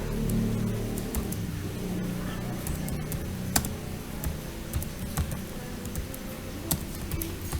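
Typing on a computer keyboard while entering fixed-asset data in accounting software, heard as scattered sharp key taps over a steady low background hum, with brief louder clicks.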